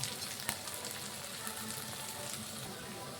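Ground turmeric, coriander, cumin and other spices frying in hot oil in a pan for Bengali Katla fish kalia, a steady close crackling sizzle with a couple of brief sharp ticks.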